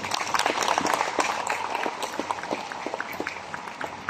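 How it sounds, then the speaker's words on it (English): Audience applause in a hall during a market talk, a steady patter of many hands clapping at moderate loudness for the whole stretch, with no voices over it. "You give Riway a round of applause"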